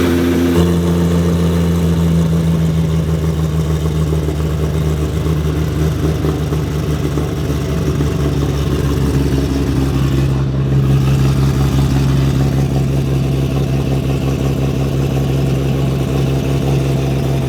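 A Nissan R32 GT-R engine at its first start rumbles loudly and close, holding a steady, throbbing idle with slight swells of revving throughout.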